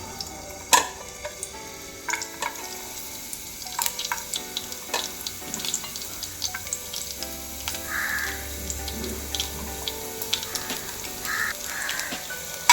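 Sliced garlic drops into a hot pan for egg fried rice, giving a close sizzle broken by scattered clinks and taps of a utensil on the pan, with a few brief hissing bursts.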